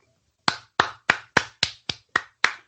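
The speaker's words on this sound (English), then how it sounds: "That's me clapping." Hands clap eight times in a steady, fairly quick rhythm, each clap sharp, close and alone, following a short silent lead-in.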